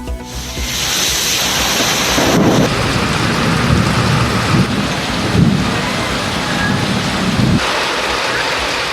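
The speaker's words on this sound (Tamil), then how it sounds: "சேலத்தில் பலத்த காற்றுடன் பெய்த மழையால் தணிந்த வெப்பம்." Heavy rain with strong wind in Salem, a loud dense roar of downpour and gusts, with deep rumbling surges swelling and easing throughout and no voices.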